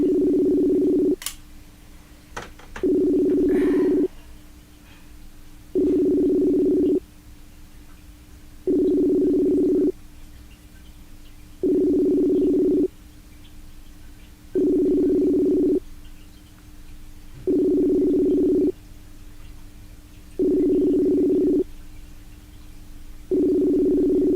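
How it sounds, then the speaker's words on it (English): A telephone rings repeatedly in regular bursts, each about a second long with pauses between, clear and close, with no talking. "Do you hear it ringing, Lisa?"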